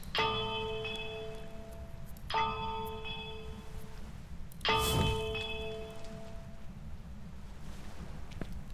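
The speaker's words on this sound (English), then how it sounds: "you ring this bell right in front of the lighthouse 3 times" A bell in front of a lighthouse in Phasmophobia struck three times at even intervals, each ring a bright clang with a long, decaying tone over light background rain-like noise.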